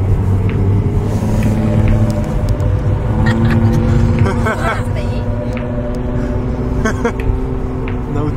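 A Toyota JZX100 street drifting in Chiba, Japan, its engine droning and revving loudly with steady harmonic tones that shift in pitch, while voices seem to talk nearby.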